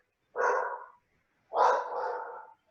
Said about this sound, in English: I know you can hear my dog barking in the background.